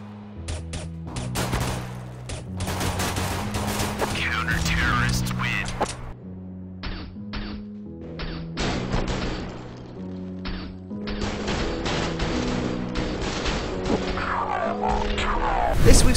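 Rapid gunfire from a USP pistol in the video game CS:GO as a player lands five headshots defending bombsite B, with sharp shots in quick bursts under continuous game music and effects, loud and close.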